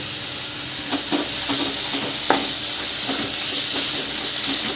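Bottle gourd halwa frying in ghee and honey hisses steadily in a pan while being stirred, with a few scraping knocks of the spoon and no voices over it.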